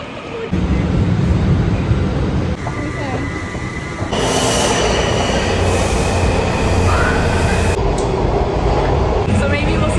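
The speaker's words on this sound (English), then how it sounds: "riding on a metro" A metro train rides along with a loud, steady rumble and rattle, wheels squealing at times, heard from inside the carriage with a shift in noise partway through; voices can be heard faintly amid the din.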